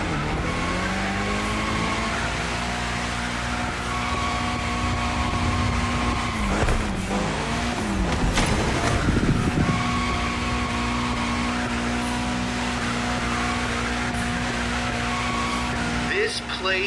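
A car drifting in The Crew Motorfest, its engine droning steadily with pitch sweeps and revving swells as it slides, loud and close throughout, with a voice speaking over it.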